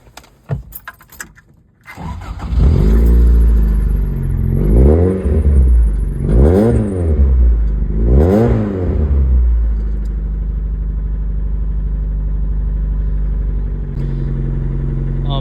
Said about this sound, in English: I'll crank it up real quick so you guys can at least hear what it sounds like